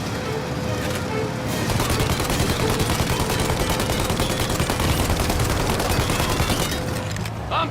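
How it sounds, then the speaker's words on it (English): Sustained rapid gunfire in the Mafia: Definitive Edition video game, dense overlapping shots and bursts continuing loudly without pause, with brief shouted voices. "Cannon, let me shoot!"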